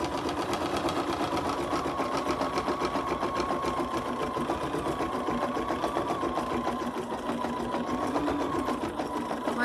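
An embroidery machine stitches a design in the hoop at home, a steady, continuous rapid mechanical chatter at moderate level with no breaks, close by.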